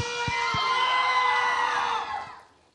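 A television game show studio audience screams loudly and continuously for about two seconds, with a few sharp thumps early on, before the crowd noise fades out.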